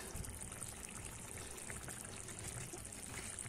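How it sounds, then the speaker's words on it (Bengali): Ghee being poured into a raw banana kofta curry as it cooks, a soft continuous pouring and trickling close by with no talk. "আমি এবার একটু ঘি দিয়ে দিচ্ছি"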